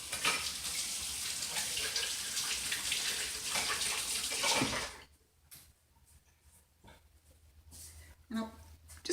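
Hands being washed under a running kitchen tap while tofu is prepared: a steady, fairly close rush of water for about five seconds, then the tap shuts off, leaving quiet room sound with faint clinks.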